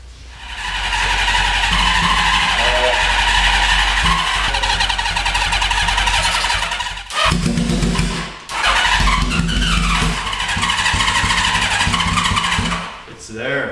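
A Honda CB650 motorcycle being cranked repeatedly in a shop, a loud close whirring starter-and-engine churn in long bursts with brief pauses, while people talk at times.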